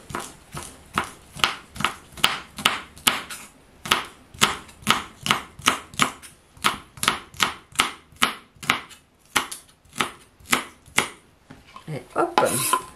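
A knife chops celery stalks on a board in a home kitchen, making about two dozen crisp, evenly spaced knocks close by. The rhythm breaks briefly near the end.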